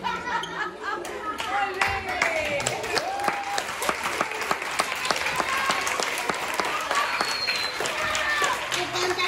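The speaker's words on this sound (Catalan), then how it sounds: "ja podeu fer un bon aplaudiment perquè ja s'ha acabat" An audience applauds at the end of a school theatre story about a devil without horns, dense sustained clapping close by, with children's voices mixed in throughout.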